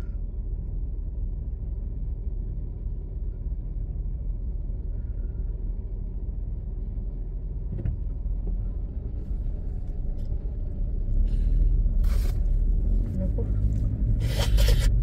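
Steady low road rumble of car traffic heard from inside a vehicle on a daily commute to work in Canada, continuous throughout with a few faint higher clicks and scrapes near the end.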